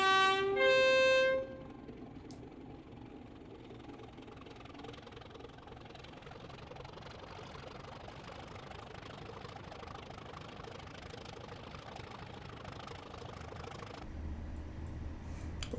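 A Class 31 diesel locomotive in the Train Simulator game on a 1950s Stour Valley line gives a short horn blast, then settles into a low steady engine drone that builds slightly near the end, with no talk.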